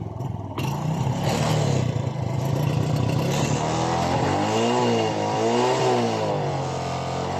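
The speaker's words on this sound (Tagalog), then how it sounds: "Napaandar natin kanyang motor." A Suzuki Smash motorcycle engine, just restarted after stalling and refusing to run, idles steadily close by, with a rising, wavering rev partway through and no talk over it.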